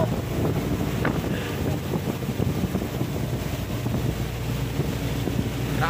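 Heavy rain and gusting wind lash a boat at sea during Super Typhoon Goring, with steady loud roar, wind buffeting the microphone and waves splashing close by throughout.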